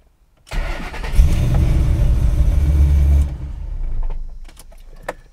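A Ford car cranks and starts on a newly programmed spare key, then its engine runs with a loud, close rumble for a few seconds. The rumble settles and fades, followed by small clicks.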